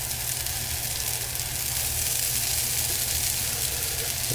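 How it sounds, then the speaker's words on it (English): Potatoes frying in butter in a hot cast iron pan, a steady dense sizzle with crackling spatter, loud and close, continuous throughout with no voices. "You can hear them in there starting to kind of fry up on the outside."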